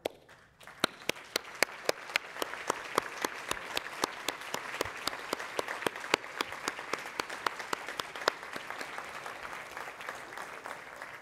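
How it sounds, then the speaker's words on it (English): Audience at the 2018 World Cancer Leaders' Summit applauding the new board of directors: steady, dense clapping from a sizeable crowd that builds quickly and continues evenly throughout, with a few sharper individual claps standing out. "please stand so we can give you all a well-deserved round of applause"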